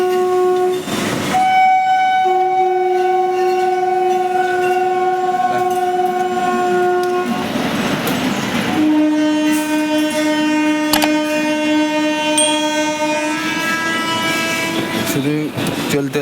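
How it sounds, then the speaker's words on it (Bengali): Express train passing close by, its horn sounding in long sustained blasts over the steady rumble and clatter of the wagons, heard from a moving train with a voice speaking at times. "এক্সপ্রেস আসতেছে, এদিক থেকে আমরা পাস করছি"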